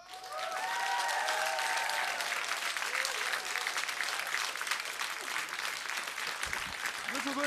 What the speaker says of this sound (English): Massive round of applause for a fantastic evening's performances.